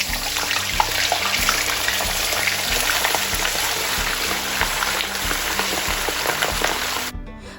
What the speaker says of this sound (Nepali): अब यी सबै मासुलाई चाहिँ यो तातो तेलमा राख्दिने